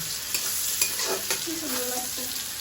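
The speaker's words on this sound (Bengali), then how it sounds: "মাথাগুলোকে না আগে ভাজা করে নিলাম" Indian carplet fish heads frying in oil in a kadai, a bright steady sizzle with a few sharp spatters and stirring clinks, close and loud, with a faint tonal sound under it.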